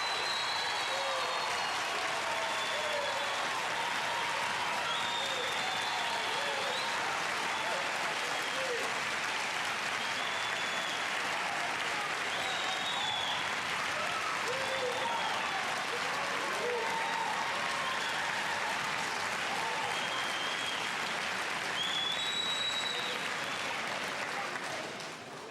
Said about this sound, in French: L'auditoire applaudit et acclame bruyamment.